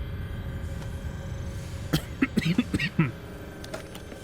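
A burst of several short coughs in quick succession, fairly close, over a steady background hum.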